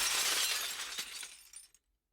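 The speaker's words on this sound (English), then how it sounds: "The sound of shattering glass wrenches me awake." Glass shatters loudly in a single burst within the Promises to Keep visual novel, a bright crash whose debris tinkles and fades over about a second before cutting to silence.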